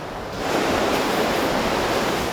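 Strong sea waves crash and surge against the shore at a fishing village on the Pohang coast in Gyeongbuk, Korea. A loud, continuous roar of surf builds after a brief quieter start, with no voices.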